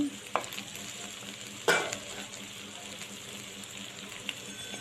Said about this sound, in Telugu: టమోటాలు కూడా వేసేసాను ఇవి కూడా అట్లా వేపుకుందాం కొంచెం ఒక ఫైవ్ మినిట్స్ చిన్నగా కలుపుకోవాలండి